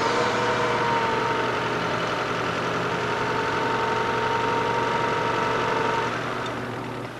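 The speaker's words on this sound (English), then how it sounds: "The engine of the car runs very smoothly" A Ferrari 308 GTSi engine running on Magnegas fuel without catalytic converters, giving a steady, even idle hum with a constant low drone that fades slightly at the end.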